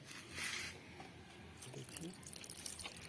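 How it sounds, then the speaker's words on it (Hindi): Soft pouring and squishing as water soaks into freshly pressed soil in a flower pot planted with an orange shevanti (chrysanthemum); the sound is faint and close, with a voice talking over it. "अब इसमें हम पानी डाल देंगे।"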